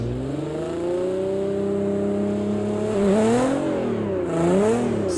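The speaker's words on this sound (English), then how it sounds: "we are now here in the Nissan GTR, which sounds really nice" A Nissan GTR engine on a snow track idles steadily, then revs twice in rising and falling swells, clear and close with no talking.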